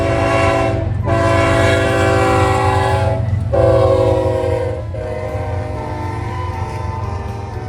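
An eastbound intermodal freight train on the BNSF Emporia Sub, with a CSX locomotive, sounds its horn in a sequence of long, loud blasts broken by brief gaps over the steady rumble of the passing train.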